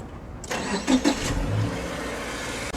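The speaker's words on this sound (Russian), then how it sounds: "заводи двигатель" A car engine cranks and catches near the microphone, a short burst of starter whir settling into a steady idle rumble, with no talking over it.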